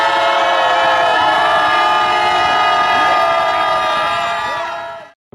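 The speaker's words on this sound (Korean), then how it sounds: "함성 시작." A crowd at a candlelight protest rally roars and cheers loudly in one sustained wave with horn-like tones, then cuts off abruptly near the end.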